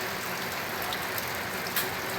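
Heavy water from a leak roars in a steady broadband wash, close and unbroken, with a few brief splashy spikes.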